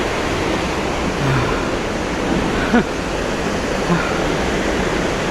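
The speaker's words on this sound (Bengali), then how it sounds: "কত পাওয়ারফুল ঝর্ণা" A powerful mountain waterfall in the Swiss hills roars as a constant broadband rush of falling water, loud and close, with faint brief sounds over it.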